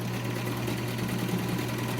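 A SewMor 606 sewing machine stitching at a stitch length of about 2.5, a fast, steady, smooth mechanical whir with a low hum, close and continuous with no talking.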